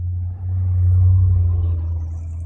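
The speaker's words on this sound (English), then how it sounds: "Right now I have a car going by." A truck with a loud muffler rolls past outdoors, a deep rumbling drone that swells toward the middle and then eases slightly as it moves on.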